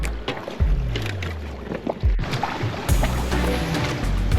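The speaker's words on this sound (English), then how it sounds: "We're not gonna flip this little yellow dinghy." A small yellow dinghy moves across the water off a beach at Moorea, with a close outboard motor drone, water splashing against the hull and wind noise, and no talking.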